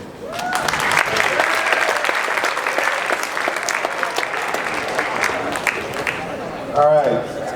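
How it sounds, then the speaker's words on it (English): Steady applause from an audience at a high school college signing day, continuous clapping throughout with a brief louder swell near the end. "Y'all can clap, it's cool."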